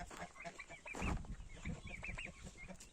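Farmyard turkeys squabble and fight, giving quick rising gobbles, clucks and squawks with scuffling and thumps, fairly faint outdoors.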